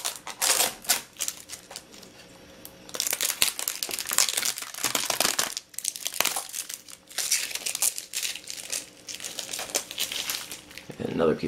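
Protective plastic wrap crinkles and rustles repeatedly in bursts as it is peeled off an Asus Eee PC 1215B notebook's screen and keyboard, close up and fairly loud, with a few quiet pauses.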